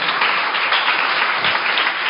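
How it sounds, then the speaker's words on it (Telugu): A church congregation breaks into loud, dense applause in response to the preacher, a steady wash of many hands clapping together for about two seconds with no speech over it. "కొడదామా చప్పట్లు?"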